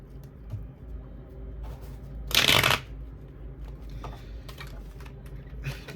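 Tarot cards are shuffled in one brief, loud riffle close by, lasting under a second amid quieter handling and faint background sounds.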